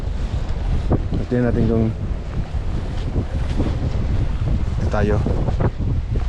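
Strong wind blowing across a fishing boat at sea, a continuous loud buffeting rush over the microphone with brief bursts of talk in between.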